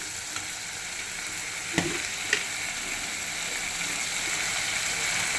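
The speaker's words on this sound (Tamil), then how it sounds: "இப்போ நல்லா டீப்பாக ஃப்ரை பண்ணணும்." Mutton liver sizzling steadily in a pan with chilli powder, a continuous crackling fry with a couple of sharp stir or spoon taps, no voices.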